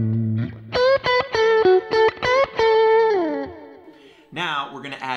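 An electric guitar played through a Kemper amp with the hot knife post-amp EQ switched off rings out in distorted, choppy chords followed by a sustained bending note, loud and up close with no talking.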